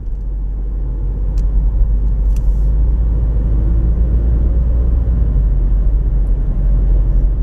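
Car driving along Seymour Lake Road and M-15 in Michigan past parked cars, a loud continuous road and engine rumble with steady tire roar and no voices.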